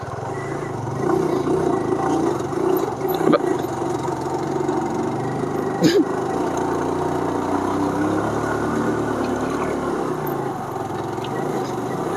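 Motorcycle engine laboring uphill on the road to Chandi Devi temple in Haridwar, a steady mid-pitched drone that holds throughout at close range, with brief clunks and faint voices over it.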